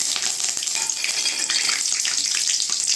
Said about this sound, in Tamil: இப்போ எண்ணெய் சூடானதுக்கப்புறம் பட்டை கிராம்பெலாம் போட்டுக்கலாங்க. அடுத்து கறிவேப்பிலை போட்டுக்கலாங்க.